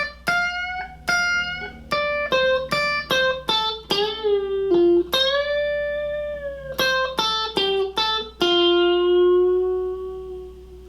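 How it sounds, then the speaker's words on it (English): Electric guitar plays a bluesy lick that moves from major to minor pentatonic, with quick picked notes, string bends and a long sustained final note, alone with light reverb. "Now the last line is very bluesy, and it shifts from major pentatonic to minor pentatonic"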